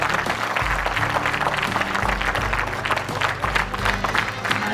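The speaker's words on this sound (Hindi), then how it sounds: "तालियां अपने आप बज गई हैं" Award ceremony audience breaking into applause, sustained crowd clapping over a low musical or tonal background, steady and fairly loud throughout.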